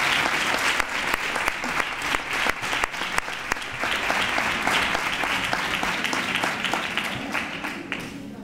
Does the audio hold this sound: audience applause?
yes